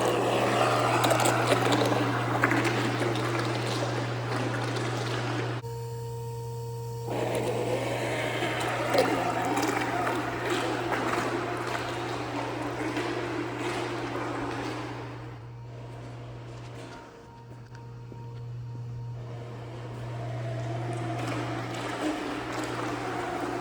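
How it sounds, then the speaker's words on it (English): The motor of an Arduino-built RC boat runs at a river, a steady propeller-like drone with a low hum throughout, dropping and shifting in pitch midway before picking back up, heard outdoors without talk. "let's jump to a clip of me at the river testing the RC boat out"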